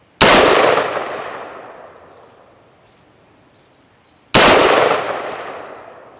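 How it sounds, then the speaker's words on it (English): Two sharp, very loud gunshots from a KAK K15 AR pistol with a 4.75-inch barrel, each cracking sharply and ringing off over several seconds, about four seconds apart, with no talking. "One thing that's noteworthy about a gun this short, it is incredibly loud."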